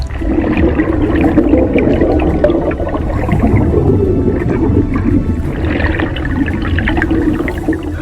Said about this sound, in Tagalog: Ngunit sa ilang sandali rumorolyo si Dakila at bagwis sa loob dahil sa lakas ng tubig.